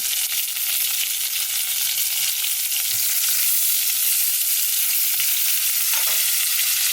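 Food sizzling and frying on a small gas stove inside a camper van, a steady close hiss with occasional soft clinks of stirring and no voices.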